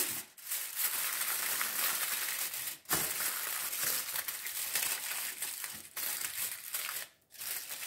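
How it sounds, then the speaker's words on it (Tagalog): Aluminium foil crinkles and crumples by hand as it is pressed over a tray of creamy leche flan, close and continuous for most of the time with a few brief pauses and no talk. "Tatakpan na natin siya ng foil"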